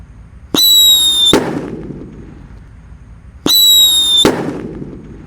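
Two Happy Power 3 fireworks in blue go off inside a hole in the ground, each a loud whistling shriek followed by a booming crackle and a fading rumble, a few seconds apart.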